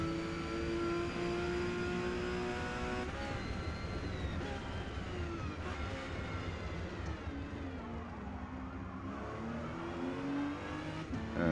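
A Porsche 911 GT2 in an R-class race at Kyalami in Forza Motorsport holds a sustained high engine whine, shifting pitch through gear changes across the lap, loud and continuous with no talk.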